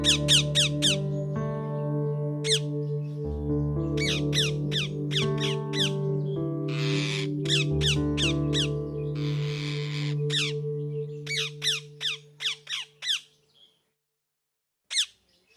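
A parrot in a children's cartoon gives repeated sharp, high squawks in quick clusters over a tonal music bed, and the calls continue in separate bursts after the music fades.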